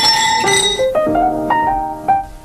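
Wine glasses clink together in a toast, several bright ringing chimes that overlap and decay, close and loud with no talking.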